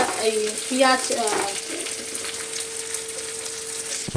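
Onion hits hot oil in a pan with a quick burst of sizzle, then settles into a steady close frying crackle, with a faint hum beneath and no talking.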